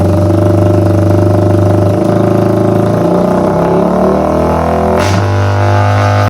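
A carbureted motorcycle engine with an overfed fuel mixture runs loud and close, its steady roar briefly rising and wavering as the throttle is blipped mid-run, with no talking.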